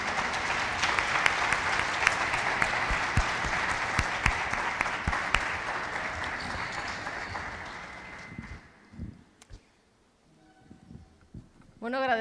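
A large audience at an award ceremony claps loudly and steadily for about eight seconds before the clapping fades out. A voice then speaks briefly near the end.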